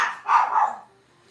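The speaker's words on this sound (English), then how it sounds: "Sorry about the barking." Puppies indoors let out a couple of short, fairly loud barks in quick succession, then fall quiet.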